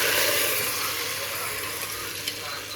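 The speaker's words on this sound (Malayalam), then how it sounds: "5 കപ്പ് വെള്ളം ഇതിൽ ഒഴിച്ചിട്ടുണ്ട് കേട്ടോ അരിയിൽ" Water poured into rice in a cooking pot, a steady bright splashing hiss that gradually eases off, close and continuous.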